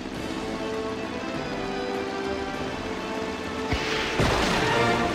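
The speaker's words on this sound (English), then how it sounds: "hard slam should take those dams down." A plane smashes through river dams in the game Disney Planes, a dense rushing crash of water and debris under steady game music, swelling into louder impacts near the end, with no talking.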